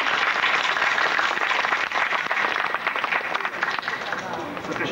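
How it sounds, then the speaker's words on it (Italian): Dense, sustained applause from an audience at the Caorso May fair, honouring the Caorso amateur theatre group (filodrammatica) before their comedy; the clapping stays loud and steady throughout with crowd noise mixed in. "quindi un applauso alla filodrammatica Caossana"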